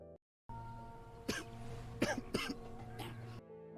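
Several short, deliberate coughs and throat-clearing sounds in a quiet room, spaced irregularly, sounding forced rather than natural.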